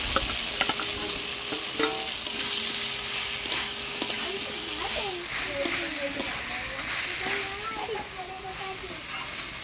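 Boiled jackfruit is stirred into spice masala frying in a pan, giving a steady sizzle with scraping stir strokes, while voices and children's chatter carry faintly in the background of a village kitchen.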